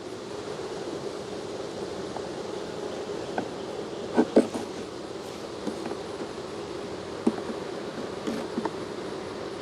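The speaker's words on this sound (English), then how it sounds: "Brush the bees off the outside." Bees buzz around an open beehive during a hot-weather honey harvest, a soft, continuous drone with occasional closer passes and light knocks, fairly faint and steady.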